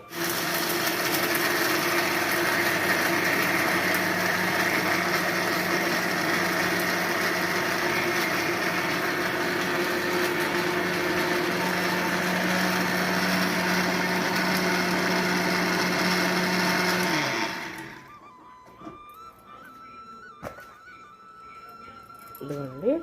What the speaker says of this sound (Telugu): ముందు ఈ పుట్నాల్ని మనం మిక్సీ పట్టుకుందామండి